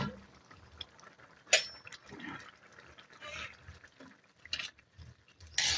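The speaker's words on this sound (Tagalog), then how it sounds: "Ayan, kumukulo na." Pot of mung bean soup with squash simmering on the stove, soft bubbling and liquid sloshing with scattered clinks and a few louder splashes, no talk.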